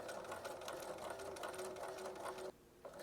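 A sewing machine running steadily while edge stitching fabric, a close, even mechanical whir with rapid needle rhythm that cuts out briefly near the end.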